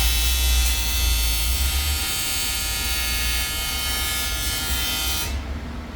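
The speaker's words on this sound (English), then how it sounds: "Now we are at Nightmare Motorsport's secret location to weld the intercooler." Welding on an intercooler gives a steady, loud electric buzz with a bright hiss that holds for several seconds and then drops off at the end.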